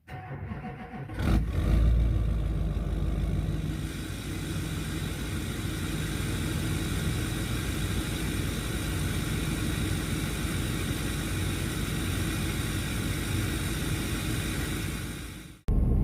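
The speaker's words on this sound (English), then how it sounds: "start the truck" A Duramax diesel truck fitted with a K&N oiled air filter cranks briefly, catches and settles into a steady, close idle that drones on evenly until a sudden change at the very end.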